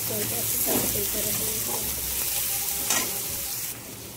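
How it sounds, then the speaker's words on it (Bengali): Onions frying and being stirred in a pan for a fish dish, a steady close sizzle with scraping stirring strokes throughout. "পেঁয়াজটা একটু ভালো করে লাল লাল হয়ে ভাজা হয়ে যাক"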